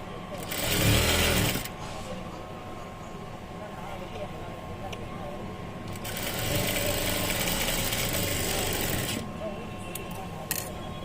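A domestic sewing machine stitching fabric during a tailoring lesson, running in two steady bursts of mechanical whirring with a quieter pause between, while someone talks over it.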